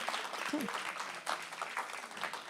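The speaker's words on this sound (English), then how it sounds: "Clapping's good." Clapping from a fashion week audience, a moderate wash of many hands at an even level, somewhat distant and soft, with brief voice-like sounds mixed in.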